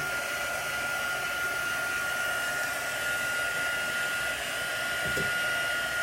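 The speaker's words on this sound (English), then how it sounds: "I'm going to use my heat gun." A heat gun blows steadily while drying chalk paint, a constant close whirring roar with a thin whine running through it, unbroken for the whole stretch and with no talking.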